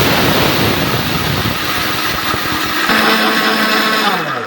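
An electric grinder whirs steadily and loudly as it grinds mustard seeds into powder, then winds down near the end, with no talk.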